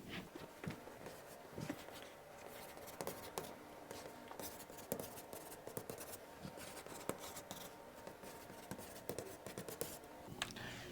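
Pen scratching steadily on paper while writing out geometric progression equations by hand, a continuous close scribbling with short strokes and taps, no talking.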